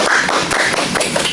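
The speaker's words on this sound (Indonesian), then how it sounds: "tepuk tangannya dulu dong" An audience at an Indonesian talk session on balancing academics and organizations claps together in a dense, steady burst of applause, loud and close, with no talking over it.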